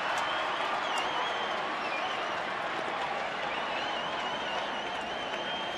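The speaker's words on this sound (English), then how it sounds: "Another big crowd here tonight at the game." A big crowd of about 28,000 at a night baseball game between Washington and Cincinnati keeps up a steady, distant wash of applause and murmur, fairly faint and even throughout.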